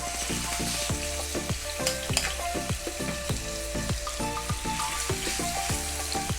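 Prawns fry in hot coconut oil, a loud, steady, close sizzle with a dense crackle of spitting pops throughout and no talking.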